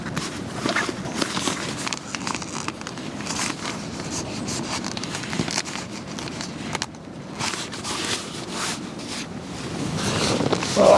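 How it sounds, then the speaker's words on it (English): Wind gusting around a Fjallraven Keb Endurance 3 Expedition tent pitched at a lake during Storm Otto: a steady, rushing roar with flapping, buffeting fabric throughout, growing louder toward the end, with no talk. "Well, that's certainly picking up that wind."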